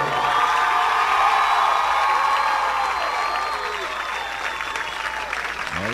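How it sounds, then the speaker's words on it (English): A high school baseball crowd cheers and applauds after the final play, a loud, dense roar with whoops and shouts that holds steady and eases slightly over six seconds. "Now you can hear the crowd."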